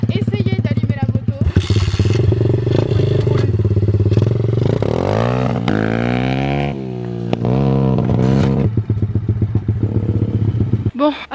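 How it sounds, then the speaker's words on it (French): A motorcycle engine is being started, with loud revving bursts, rising and falling pitch sweeps and some clattering, while voices talk over the noise. "On va venir à essayer d'allumer la moto."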